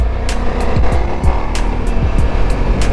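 A Ducati Multistrada V4S motorcycle's engine drones steadily and loud throughout a smooth ride, with a few brief rising and falling revs breaking through the constant roar.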